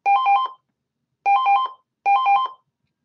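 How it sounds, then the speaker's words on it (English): An old-style telephone bell rings in three short, trilling bursts with pauses between them, loud and clear against silence. "I'm sorry I cannot answer that phone."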